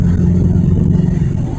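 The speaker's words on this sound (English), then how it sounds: "Little raspy exhaust there." A 1965 Wolseley Hornet MK2 engine revs close by, its raspy exhaust giving a loud, steady rumbling drone with slight rhythmic pulsing.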